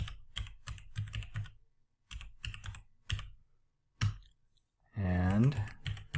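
A password typed on a computer keyboard, bursts of crisp close key clicks separated by pauses, with a short stretch of talking near the end.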